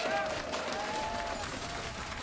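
An esports arena crowd at the LCS Spring 2022 playoffs, 100 Thieves versus Cloud9, cheers and claps with a few whistles. The sound is soft and distant, and a commentator talks over it.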